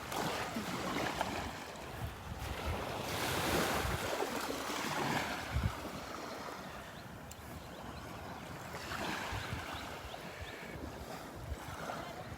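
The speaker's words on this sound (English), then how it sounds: "just listening to the waves and the birds" Ocean waves wash onto the beach at Delnor-Wiggins in a steady roar, swelling and easing in broad surges, with wind buffeting the microphone.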